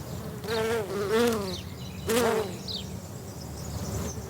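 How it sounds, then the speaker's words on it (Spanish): A honey bee buzzes close by while foraging, its droning hum rising and falling in pitch over steady background noise, with a couple of louder passes. "es el zumbido de una abeja de la miel en su tarea frenética de recolección"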